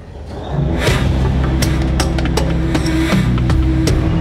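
Giant mining haul truck rolling on 3.8-metre tyres through the Chuquicamata copper mine, a deep steady diesel drone and low rumble rising in after a quiet start and holding loud and constant.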